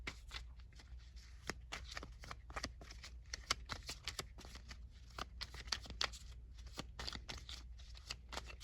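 Oracle cards are shuffled quickly by hand, giving a rapid series of crisp riffles and slaps with short pauses between bursts, close and fairly quiet, with no talking.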